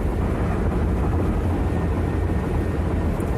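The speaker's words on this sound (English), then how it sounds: "sorry for the road noise" Steady low road rumble and wind noise from inside a moving car, constant and fairly loud, with no talking.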